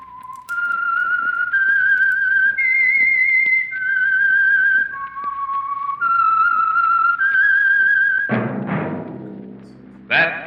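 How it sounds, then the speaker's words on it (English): A lone whistler performs the theme signal of The Whistler radio program, a clear, sustained melody of held notes stepping up and down, followed by a few thumps and a closing note. "That whistle is your signal for the Signal Oil Program"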